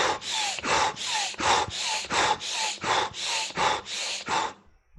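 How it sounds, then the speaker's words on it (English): Bhastrika breathing exercise: about a dozen rapid, forceful breaths pushed in and out through the nose in a steady, even rhythm, close and loud, stopping just before the end. "Bhastrika is breathing like this."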